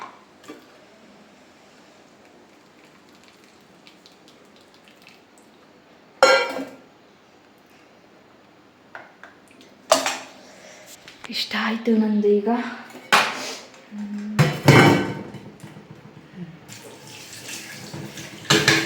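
Dishes and pots are washed under a running tap, with gushes of water in bursts, clinking and scraping of utensils, and quiet stretches between; someone speaks briefly over it.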